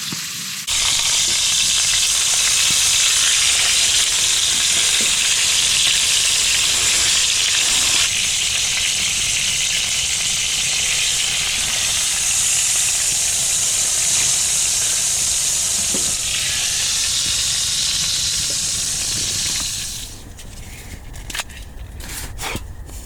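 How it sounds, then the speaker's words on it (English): A steak sears in a hot pan at a snowy spring camp inside a hot tent, a loud steady sizzle and hiss running for about twenty seconds before dropping to faint clatter. "I like my steaks rare, medium rare, so I just like a good sear on the outside and a few minutes on each side tops."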